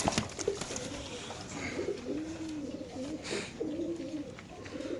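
Racing pigeons in cages coo repeatedly, with soft rolling calls over a busy background, close and moderately loud.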